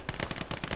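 Rapid bursts of automatic gunfire in the WWII strategy game Gates of Hell: Ostfront, about eight close, sharp reports in under a second.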